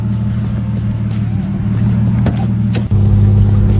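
Turbocharged BMW E36 with an M52B28 engine and 8HP70 gearbox on a road test drive, a steady close engine drone with a low hum that shifts in pitch partway through, with a couple of brief knocks.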